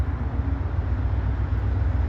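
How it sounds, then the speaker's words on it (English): A train passing somewhere in Toronto gives a steady low rumble that holds evenly for about two seconds, moderately loud and fairly distant, with no voices. "Oh, I hear a train now."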